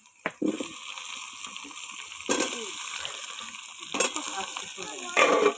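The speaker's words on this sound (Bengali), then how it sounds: "এখন আমি আলুটাকে ভালো করে ভালো করে ভেজে নেব" Potatoes fry in a pan and are stirred, giving a steady close sizzle broken by several louder scraping stirs, with no talking.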